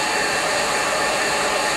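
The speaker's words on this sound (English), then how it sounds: "So you got the hair dryer, the brush" A handheld hair dryer blows steadily while a brush styles hair, a loud, constant broadband whoosh held close and unbroken throughout.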